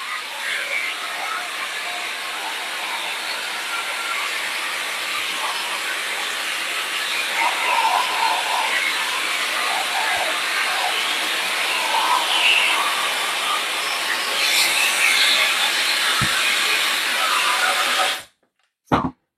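A hair dryer blowing cool air, a steady, loud hiss running unbroken for most of the stretch, then cutting off abruptly near the end.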